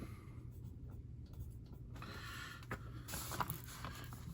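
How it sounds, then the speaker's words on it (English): A pencil or pen scratches across paper while an azimuth is jotted down, a quiet continuous writing rustle with a few firmer strokes, heard close in a hushed room. "All right, so I'm going to write that down."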